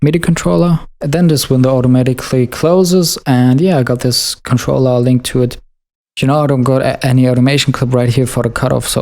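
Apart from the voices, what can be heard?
No everyday noises stand out.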